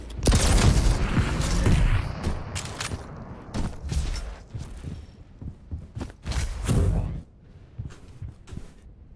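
Rocket launcher explosions during a Quake duel, with a dense burst of booms at first, then scattered sharp blasts and impacts mixed with clanks and footsteps.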